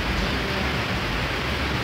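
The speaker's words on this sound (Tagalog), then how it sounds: "Grabe, sobrang lakas na ulan sa labas." Heavy rain falls outside, a dense, steady hiss of broadband wash that holds at an even level for a couple of seconds, moderately quiet and with no voices over it.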